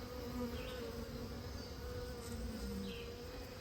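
Bees in a rescued hive give a continuous, even buzzing hum at close range, with a few individual bees droning past near the ear.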